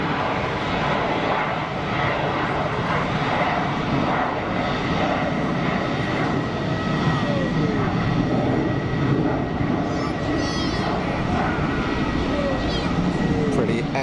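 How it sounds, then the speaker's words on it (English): A Dassault Falcon 2000 business jet departing Geneva Airport, a steady broad engine roar heard from a distance that holds level for the whole stretch without fading, with faint voices underneath. "Pretty effortless departure from that Falcon 2000"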